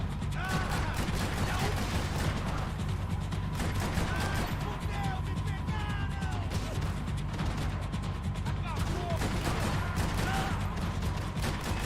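Max Payne gunfire crackles in frequent rapid shots over a busy game soundscape, with scattered metallic pings and clatter throughout.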